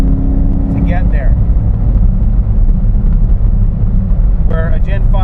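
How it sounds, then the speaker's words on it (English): GM LS3 V8 in a 2007 Jeep Wrangler Unlimited Rubicon with a 6L80 transmission downshifting and pulling up to 65, a loud steady low engine and road drone inside the cabin with someone talking over it. "this LS3 is going to downshift to get there"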